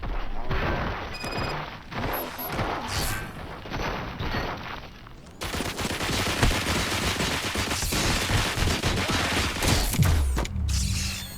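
Gunfire in the video game Robocop: Rogue City: dense, rapid bursts of shots and mechanical clatter fill the scene, growing heavier partway through, with brief game dialogue mixed in.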